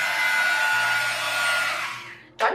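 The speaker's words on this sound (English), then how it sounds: "you can use a heat gun or a hair dryer to remove the bubbles" A hair dryer used to clear bubbles from a poured coating on a balsa wood tray blows steadily and loudly with a broad airy roar, then cuts off near the end, followed by a brief sharp bump.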